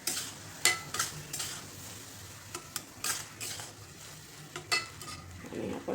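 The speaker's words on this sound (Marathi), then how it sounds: "याला मिक्स करून घ्यायचे." Cooked rice for sweet coconut rice being mixed in a pan, with irregular spoon scrapes and knocks against the metal over a soft sizzle, close and fairly quiet, with no speech.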